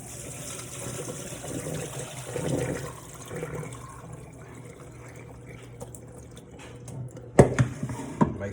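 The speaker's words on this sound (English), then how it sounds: "Rinsing them in that cold water, it stops the cooking process, but it also rinses off that excess garlic." Cold tap water runs over cooked noodles in a strainer set in a sink, rinsing off excess garlic with a steady splashing flow, then a few sharper clatters and drips near the end.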